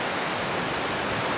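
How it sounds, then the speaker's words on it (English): A rocky river rushes beneath a distant stone bridge in the Scottish countryside, heard as a steady, even wash of flowing water with no other sounds. "Rocky river going under the stone bridge over there in the distance."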